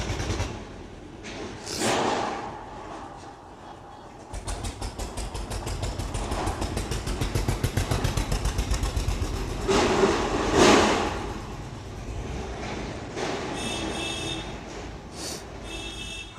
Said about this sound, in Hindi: एक बार ट्रैक्टर को जाने दीजिए।